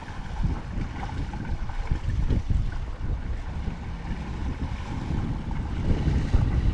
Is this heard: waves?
yes